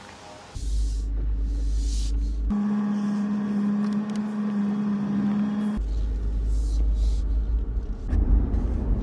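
Jeep Wrangler on the road in high winds: loud low rumble and buffeting, with a stretch where a steady humming tone dominates before the rough wind-and-road roar returns.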